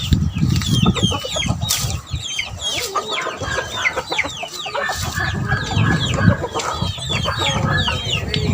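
Gamecocks cluck and chatter continuously in a busy yard, close and loud, with wing flapping and a few distant crows mixed into a dense, overlapping din.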